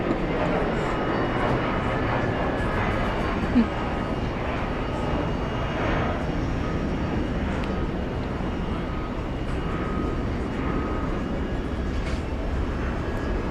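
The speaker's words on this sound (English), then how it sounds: "this Turkish Airlines A350 from Istanbul is on its way in, on its way in" A Turkish Airlines Airbus A350 inbound from Istanbul arrives at JFK, its engines giving a steady broad roar that stays fairly constant throughout, with faint voices now and then.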